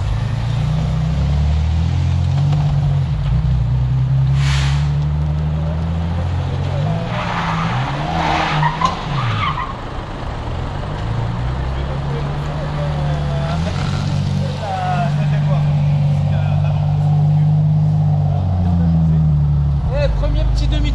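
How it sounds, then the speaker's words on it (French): A Jaguar car swings through a handbrake U-turn, its engine droning loud and close throughout while tyres scrub and skid, with voices talking over the motor. "Premier petit demi-tour au frein à main en Jaguar, c'est pas beau ça?"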